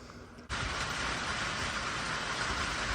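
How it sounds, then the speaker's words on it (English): Steady rain falling on a backyard garden while a sprinkler also runs, a dense hiss that jumps up abruptly after half a second and then holds constant and close. "And now we've got the sprinkler going at the same time the rain is."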